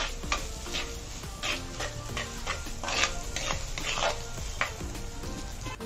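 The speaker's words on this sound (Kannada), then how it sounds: "ಈರುಳ್ಳಿ ಹಾಕಿ ಈರುಳ್ಳಿ ಒಂದು ಸ್ವಲ್ಪ ಕಂದು ಬಣ್ಣ ಬರೋವರೆಗೂ ಚೆನ್ನಾಗಿ ಫ್ರೈ ಮಾಡ್ಕೊಬೇಕು" Onions and garlic frying in oil in a pan for a garlic gravy, with steady broadband sizzle and repeated scraping stirs of a utensil against the pan, close and fairly loud, no talking.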